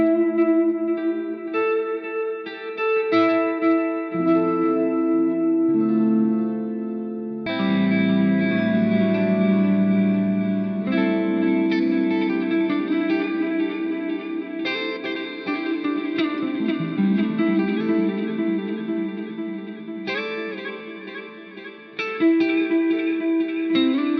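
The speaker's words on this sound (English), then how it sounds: "this really subtle delay reverb with this kind of interesting, almost flanger style effect on the repeats" An electric guitar played through an Eventide H9 pedal on a subtle delay reverb algorithm, sustained notes and chords with shimmering, flanger-like swirling repeats, loud and close with no talking.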